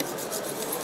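A stainless steel chef's knife saws back and forth across a cutting surface while slicing a carrot, giving a brief, close, steady scraping rasp with no talking.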